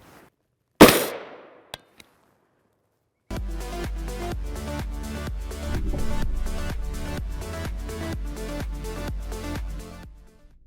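A single sharp, loud gunshot from a 5.7x28mm firearm with an 8-inch barrel, firing a 40-grain Speer Gold Dot hollow point, cracks out and decays quickly. A couple of faint clicks follow, then rhythmic music plays.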